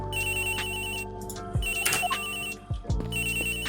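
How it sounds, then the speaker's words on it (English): A telephone rings in an Ace Attorney video game, a repeating electronic ringtone in bursts broken by clicks and short game sound effects. "The ringing is coming from somewhere around here."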